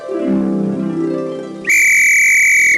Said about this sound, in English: Adam, would you put that whistle away